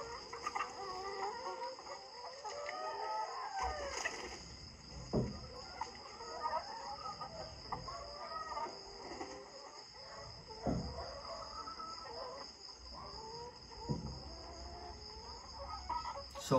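Free-range chickens on a poultry farm in Pangasinan, Philippines, with scattered clucks and rooster calls over a steady bed of insect chirping, plus a few sharp knocks, at a moderate distance and without talk.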